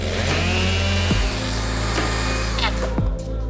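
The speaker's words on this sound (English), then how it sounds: "Now we're just going to keep milling so that we can get our pieces for if we need any patching or if we need any gunnels" A chainsaw mill cuts inch-thick slabs from a tree log for canoe planks, its engine roaring loudly and close at a steady pitch, with brief dips as the load shifts during the cut.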